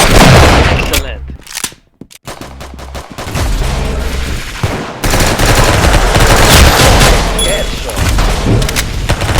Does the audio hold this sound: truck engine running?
no